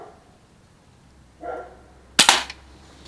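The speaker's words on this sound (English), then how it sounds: "we're going to shoot about 5 rounds here" A Crosman PSM45 pistol fires at close range: a soft puff, then one sharp, loud crack with a short rattle after it, against a quiet outdoor background.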